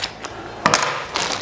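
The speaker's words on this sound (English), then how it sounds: "cut the bag," Scissors snip through a plastic bag of frozen dim sims, making a few short, crisp crinkling cuts with brief pauses between them, close to the microphone.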